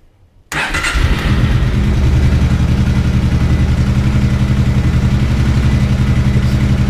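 A motorcycle engine fires up after a brief silence and settles into a steady, close, even idle, with a rhythmic low throb running unchanged to the end.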